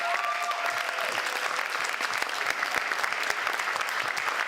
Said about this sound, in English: If we could give them each a round of applause.